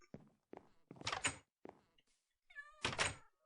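Minecraft cat meowing in short separate calls, a few rising tonal meows mixed with soft thumps, fairly close and clear with no talking over them.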